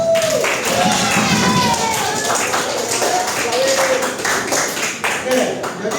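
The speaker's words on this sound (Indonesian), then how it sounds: "Tepuk tangan untuk kelompok 3." Students in a high school physics classroom clap for a group, a loose burst of applause mixed with chatter and voices, fairly loud and close, tapering toward the end.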